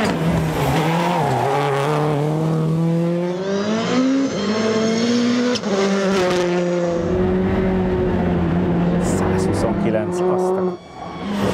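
A car circles a race track on a timed lap, its engine droning at a steady pitch that rises and falls through a corner, with tire noise and people talking over it.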